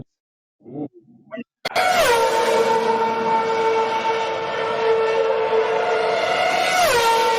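Formula One race cars roar as a loud, sustained, high-pitched engine whine with a dense harmonic scream, its pitch dipping as it begins and again near the end, after a few brief faint sounds.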